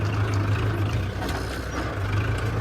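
A 45 hp Kubota tractor diesel engine idles with a steady low throbbing rumble, close and constant throughout, with no voices.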